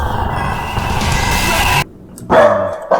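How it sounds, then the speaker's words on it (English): A dog barks in the horror video game Lost In Vivo, a loud yelp rising out of a droning ambient background after a sudden drop to near silence, close and brief. "Oh, dog! Dog, you're back!"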